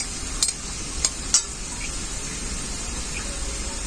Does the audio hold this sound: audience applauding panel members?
no